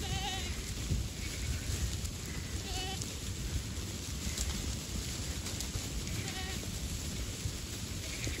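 Sheep and young goat kids bleating across a hillside pasture, several calls rising at intervals from different distances over a steady outdoor background.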